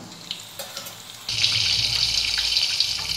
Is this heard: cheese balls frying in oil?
yes